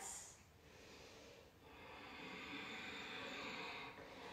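Slow, audible breathing during a yoga pose in a vinyasa class, a soft airy inhale and longer exhale close to the microphone over a quiet room, with no talking.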